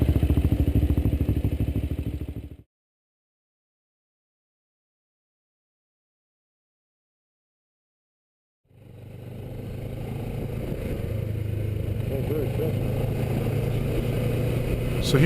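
Motorcycle ridden on a gravel road, with a steady engine drone and the rumble of tyres on loose stones that cuts to total silence partway through and then returns.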